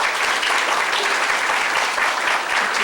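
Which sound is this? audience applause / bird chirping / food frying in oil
audience applause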